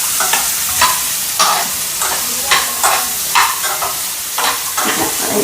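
Grated coconut lightly frying in a little oil in a pan, with bright, loud sizzling and repeated rhythmic stirring scrapes close by, and no talking.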